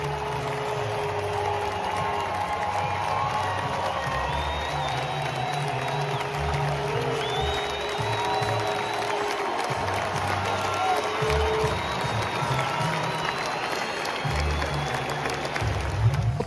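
Baseball stadium crowd noise fills the space, a continuous wash of cheering mixed with booing and scattered clapping, steady and loud with a few whistles rising above the roar.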